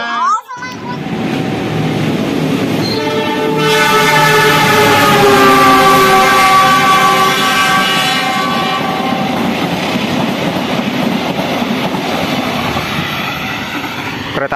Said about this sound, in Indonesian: Kereta api Cikuray dari stasiun Garut dengan tujuan akhir stasiun Pasar Senen melintas langsung di stasiun Ranca Ekek.